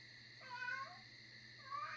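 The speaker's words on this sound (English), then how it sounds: "He must see another cat outside or something." An indoor pet cat lets out two drawn-out meows, one near the middle and another at the end, fairly faint over a low steady hum.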